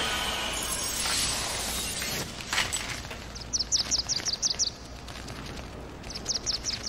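Bright, rapid chirps from a small bird in the game Lost Odyssey come in two quick clusters over a soft ambient bed, fairly close and clear, with no one talking.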